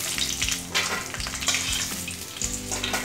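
Fox nuts (makhana) stir-fry in a little white oil in a pan, giving a continuous close sizzle with quick rustling stirs and light scraping, no one speaking.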